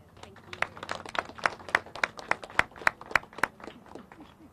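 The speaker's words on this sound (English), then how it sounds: "give them a round of applause one more time, a big round of applause" An audience at a Richmond city press event claps in an even, rhythmic run of about a dozen distinct claps that rises, then fades near the end, under faint room noise.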